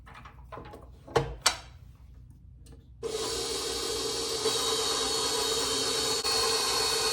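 Bread dough of flour, salt and oil being mixed, a few sharp knocks and scrapes at first, then a steady loud whirring mixer drone that runs on to the end.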